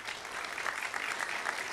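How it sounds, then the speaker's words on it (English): Brief, steady applause from an audience at a college honors convocation, moderately distant clapping at an even level with no voices standing out. "You also deserve a round of applause"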